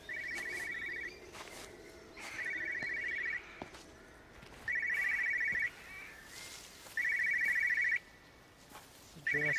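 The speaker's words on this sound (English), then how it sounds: "It's a Jurassic Park phone." An old-style telephone bell rings in repeated bursts of about a second, separated by short pauses, in the video game Everybody's Gone to Rapture, with faint outdoor ambience and birdsong between the rings.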